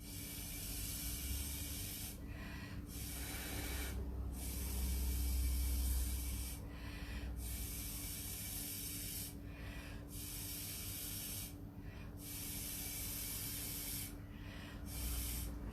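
Steady breathy hiss of air blown through a drinking straw to push wet paint across an art canvas in hot weather, coming in long puffs broken by short pauses, close and fairly quiet with no talk.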